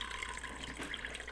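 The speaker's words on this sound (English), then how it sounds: "I'm just adding half cup of water" Half a cup of water poured into a pot of duck being cooked in coconut milk, a steady close splashing trickle running throughout.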